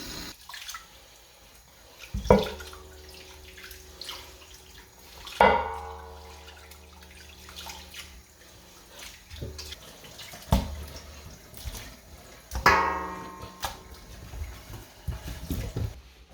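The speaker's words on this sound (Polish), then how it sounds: "To zaraz jeszcze pod bieżącą wodą umyję i wrzucamy wszystko do gara." Bones for a pork stock are rinsed under a running kitchen tap: water gushes and splashes in several short bursts, with clunks of bones against a pot or sink between them, close by and without talk.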